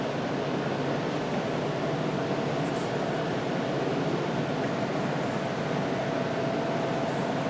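An LGB G scale large model trolley train running on a display layout at a car museum, giving a steady, continuous rolling rumble at an even level throughout, with no pauses and no talking.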